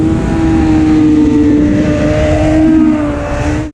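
A 600cc motorcycle accelerates hard out of a corner on the Mugello circuit, its engine note climbing loud and close in a sustained rising whine that cuts off abruptly at the end.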